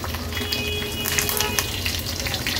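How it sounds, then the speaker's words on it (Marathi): Half a spoon each of mustard seeds and cumin, along with curry leaves, sizzles and crackles in about two tablespoons of hot oil, a loud, close, continuous frying hiss with sharp spattering pops. "फोडणीला अर्धा चमचा राई, अर्धा चमचा जिरं, कढीपत्त्याची पानं घालते"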